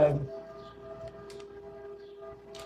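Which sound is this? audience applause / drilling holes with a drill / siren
siren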